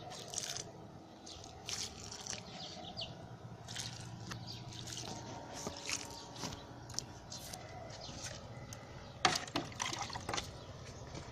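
Water is poured onto soil beside freshly covered bottle gourd seeds in a tank planter, a faint soft trickle and dribble with scattered light drips, quiet and close.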